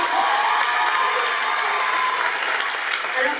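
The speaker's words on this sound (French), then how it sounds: "Applaudissez-la." Steady applause from an audience at a Miss Excellence Pas-de-Calais 2022 beauty pageant, dense clapping sustained throughout at a fairly loud level with a few scattered cheers.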